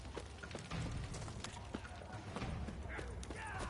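Horses gallop along a road in The Witcher 3 DLC, a fast rhythmic clip-clop of hooves under a low game soundscape, with faint voices and a brief whinny-like sound.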